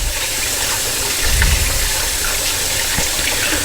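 Tap water gushing steadily into a sink while hands are rinsed, a loud, close, continuous splashing with slight changes as the hands move under the stream, no talk.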